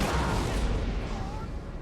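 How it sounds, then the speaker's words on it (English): Cannons fire in the Napoleon Total War battle game, a dense continuous rumble of booming artillery and distant gunfire that fills the whole stretch, with no clear single shots. "Cannons firing clean over their head."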